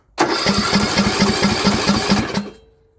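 A Craftsman LT2000 riding mower's small engine cranks and roars to life with a rapid chugging pulse, runs loudly for about two seconds, then dies away.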